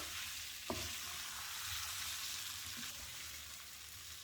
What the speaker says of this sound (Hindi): यू कैन सी कि ये जैसे जैसे फ्राई होता जा रहा है, ड्राई होता जा रहा है।